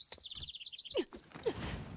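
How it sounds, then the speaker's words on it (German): Birds chirp in the Dragon Nest video game: a rapid run of high twittering notes, repeated evenly for about a second, followed by a couple of lower swooping calls against a soft ambient background. "Vöglein zwitschern."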